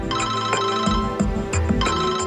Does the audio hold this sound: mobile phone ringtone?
yes